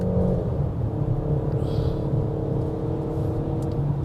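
A 2022 Peugeot 5008 family SUV with a 1.6 engine climbs a wet hill road, its engine droning in a low steady rumble with faint road noise, heard from inside without talk.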